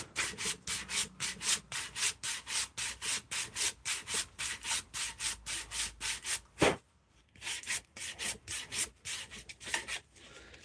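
Wood being hand-sanded with 120 grit sandpaper in steady back-and-forth strokes, a close rhythmic rasping that pauses briefly midway before resuming.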